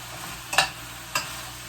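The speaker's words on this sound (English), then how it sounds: "we're gonna stir all of this beautiful, beautiful dish together" A spoon scrapes through pot pie filling in a pan, two short stirring strokes over a faint, steady sizzle.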